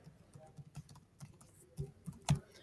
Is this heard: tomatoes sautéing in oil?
no